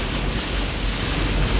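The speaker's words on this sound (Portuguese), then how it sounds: "A estrada virou rio!" Floodwater rushes along a road turned river in heavy rain, a steady broadband wash that stays loud and even throughout, with no voices.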